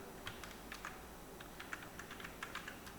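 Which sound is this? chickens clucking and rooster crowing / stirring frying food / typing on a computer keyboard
typing on a computer keyboard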